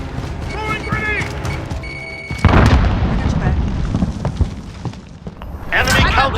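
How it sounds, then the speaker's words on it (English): A grenade explodes in Call of Duty: Vanguard, a loud boom that breaks into a long, rolling, debris-filled roar amid game voice callouts. "Throwing grenade!"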